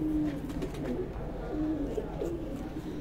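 Low, repeated cooing of pigeons fills the clip, soft and steady, with murmured voices faintly in the background.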